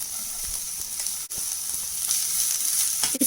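Onions frying in a pan, a steady bright sizzle with soft crackles and a brief dip near the middle, close and continuous with no talk.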